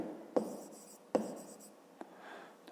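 Pen writing on paper during a fifth-grade maths exercise: a few quiet, brief scratching strokes with short gaps between them, close and alone.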